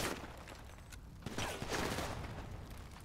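Gunfire from a shootout in the video game GTA V: a loud, dense burst of shots near the start and again around the middle, with game mechanisms and crackling effects filling the gaps.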